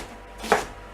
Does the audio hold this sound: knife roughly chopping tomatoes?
yes